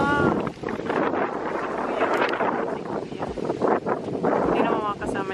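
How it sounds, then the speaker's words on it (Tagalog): Strong gusts buffet a phone microphone outdoors, a loud rumbling roar rising and falling across several seconds, with people talking and shouting through it. "Ang lakas ng hangin."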